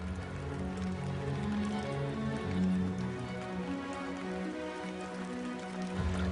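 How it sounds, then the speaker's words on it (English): Steady rainfall in the Amazon during the wet season patters continuously on surfaces, a soft, even wash of drops with no voices, fairly quiet and ambient. "Rain falls incessantly throughout the Amazon's wet season"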